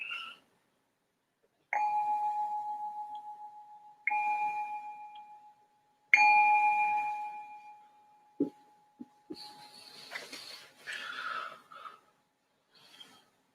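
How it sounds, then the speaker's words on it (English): A meditation bell rings three times, each clear metallic strike followed by a long, slowly fading sustain, then a few soft rustles and breaths in a quiet room. "I'm going to ring the bell to signal the start of our first meditation."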